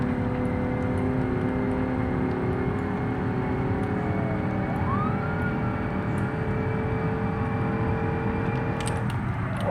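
Police car siren in the BeamNG driving game, a steady wailing tone sustained throughout over a constant engine and road drone, loud and close, with no talk.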